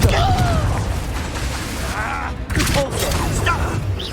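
Confringo spell blasts in the video game Hogwarts Legacy, loud bursting booms and pops over dense combat noise with constant mechanical rumble and music, while a voice talks over the action.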